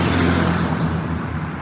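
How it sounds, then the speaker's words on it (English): Steady street traffic with cars passing, a continuous broad roar close by with no talking. "you hear the traffic too."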